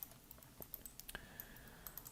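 Computer keyboard keys pressed during 3D modeling work, a few light, scattered clicks over about two seconds, close and quiet with no talking.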